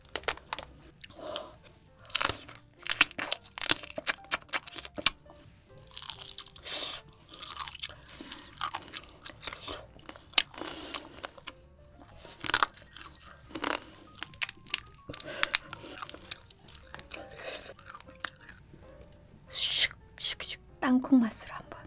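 Close, crisp crunching and chewing of spicy mala-boiled crayfish, Korean-style seafood eaten for a mukbang, with irregular bites, wet mouth sounds and soft whispered talk between them.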